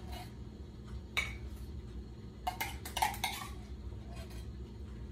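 Canned soup being stirred into an eggplant casserole in a baking dish: a few clinks and scrapes of a utensil against the dish over a low background hum, with sparse, moderately close knocks.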